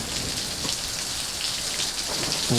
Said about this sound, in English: Welcome back to sunny Florida, where it is raining again